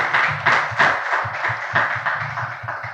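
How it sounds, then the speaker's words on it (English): Steady applause from a crowd at an alumni ceremony at NIT Tiruchirappalli, many hands clapping together in a dense, continuous wash with slight pulses of emphasis. "So a big round of applause to you."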